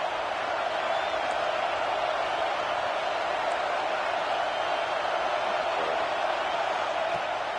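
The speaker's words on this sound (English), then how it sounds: "Listen to this crowd just shaking the girders of this place trying to help their defense." Video game stadium crowd at a Clemson versus LSU NCAA football game roars in a steady, dense wall of noise, loud and unbroken throughout with no distinct peaks.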